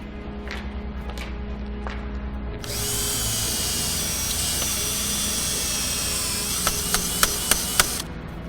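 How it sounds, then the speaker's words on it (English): A power drill boring into ice-rink ice for a thickness check starts after a few quiet seconds, whining steadily and loud, then ends with a few short sharp clicks or knocks as it stops. "Basically, we just use a drill and a tape measure."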